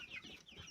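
Chickens on a small farm give a few soft, faint clucks in quick succession, heard alone without talk.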